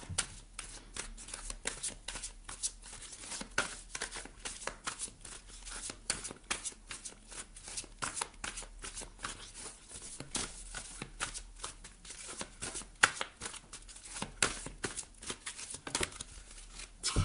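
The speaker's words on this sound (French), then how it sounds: "on ira piocher quelques petites cartes conseils d'un point de vue un petit peu plus spirituel." Tarot cards are shuffled close up without a break, a dense run of quick papery riffles and flicks over about seventeen seconds, with no voices.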